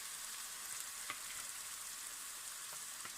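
Marinated chicken fries in a pan with a soft, even sizzle and a few faint clicks of utensils, quiet and steady with no voices.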